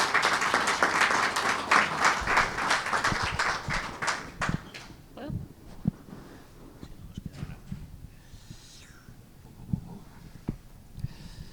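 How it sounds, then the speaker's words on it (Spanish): A conference audience applauds a speaker in a dense burst of clapping that thins out after a few seconds, leaving scattered claps and room noise. "Un fuerte aplauso para él."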